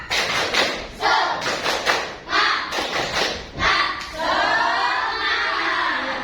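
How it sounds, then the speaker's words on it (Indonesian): A classroom of students doing a rhythmic spirit clap together, a series of sharp, loud group claps in a set pattern, followed by children's voices cheering at the end. "Tepuk semangat"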